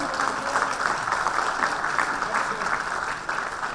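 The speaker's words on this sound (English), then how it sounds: "huge round of applause for her" Applause from the audience at a pharma awards ceremony for an honoree, steady and full with some murmuring voices mixed in.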